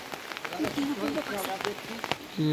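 Rain falls steadily in a village beside a tamarind tree, a soft continuous patter with scattered drops, while a voice talks over it throughout.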